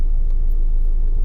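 A 1998 Mazda Protege with a 1.5L engine that sat for about 15 years, idling slightly high after half an hour of running; a loud, steady low rumble close by, with no talking.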